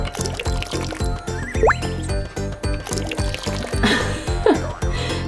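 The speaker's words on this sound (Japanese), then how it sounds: "お水を入れます" Water pours and splashes into a toy squat toilet holding orange powder, in short bursts, with liquid sloshing and dripping against a steady background hum.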